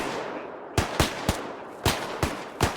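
Single-shot rifle fire in the Arma 3 video game: six loud, sharp separate reports in an uneven rhythm, each cracking out of a quiet background hiss.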